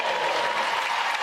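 Volleyball fans at Carmichael arena applauding, a dense sustained wash of clapping from an indoor crowd at steady volume with no break.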